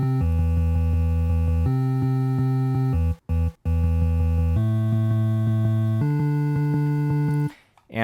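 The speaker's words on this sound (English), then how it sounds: "one layer of the Magical 8-bit plugin combined with one layer of my own custom bass" Synthesized 8-bit chiptune bass from a Magical 8-bit plugin layered with a custom ES1 synth bass, playing steady sustained notes that step between pitches, loud and close, with a brief dropout midway and a cut at the end.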